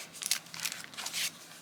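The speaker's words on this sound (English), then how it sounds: "I just crinkled it up, and I just love the sound of paper." Vellum paper crinkled up by hand, a few bursts of crisp, close rustling and crackling separated by brief pauses.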